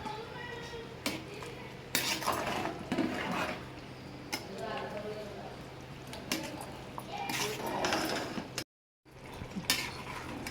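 A steel pot of khichdi has its contents scraped and its lid set on, producing a series of sharp metallic clinks and clatters amid low background noise, with a brief silent gap near the end.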